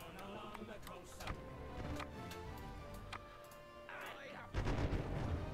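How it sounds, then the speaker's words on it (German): Ship cannon fire in the pirate strategy game Republic of Pirates: repeated sharp booms at irregular intervals over a dense, busy game soundscape, with a heavier low rumble near the end. "Und wir schießen munter drauf los."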